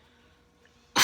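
A person's sneeze during a home New Year's Eve chat, one sudden loud burst at the very end after near silence.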